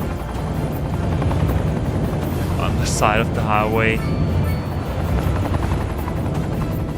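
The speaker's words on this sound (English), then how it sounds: "And the helicopter apparently only has space for 1." A helicopter in the city-building game Cities: Skylines 2 gives a continuous whirring drone throughout while someone speaks over it.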